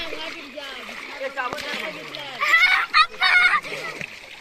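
Water splashes in bursts during outdoor Holi festival play in the Konkan countryside, heard under lively chatter and children's voices.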